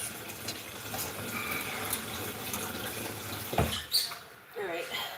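Water runs from a tap in a steady, splashy stream for washing a goat's face, close by and moderately loud, with a few brief knocks and handling sounds near the end.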